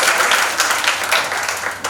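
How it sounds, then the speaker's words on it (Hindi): A crowd at a nursing college event breaks into brief, lively applause, with many hands clapping at once and no voices. "चलिए, एक बार तालियां बजा दिए।"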